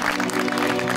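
An audience applauds on a Samaa TV comedy show as a singer is introduced, a steady broadband wash with sustained music tones under it, loud and continuous for about a second.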